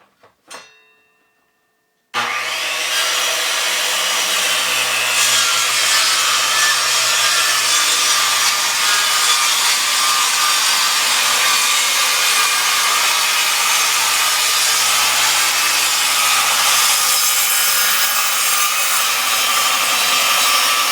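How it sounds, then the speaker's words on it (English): A circular skill saw cutting lumber while straightening boards: a few faint clicks and a brief start, then a very loud, steady, continuous cutting whine that holds close and unbroken for nearly twenty seconds. "I'll get my safety glasses on and my muffs, because I find this skill saw really loud"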